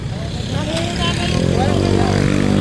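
A motorcycle engine labours up a steep, heavily banked mountain road on Marilaque in Tanay, Rizal, a loud close droning hum rising in strain, with a rider talking over it.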